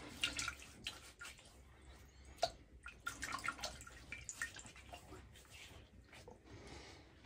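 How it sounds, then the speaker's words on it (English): Warm water is splashed onto the face before a wet shave, with faint, close, irregular splashes and drips running through the whole stretch, quiet against a soft background. "I've just got some warm water that I'm going to put on my face real quick"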